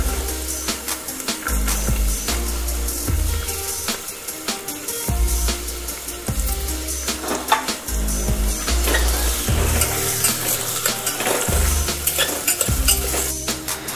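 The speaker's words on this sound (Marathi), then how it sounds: "आता आपण कांदा टाकूया।" Onion fries in a pan with ginger, garlic and green chilies, crackling and sizzling steadily while a spatula scrapes and knocks against the metal pan in irregular strokes, close up and fairly loud.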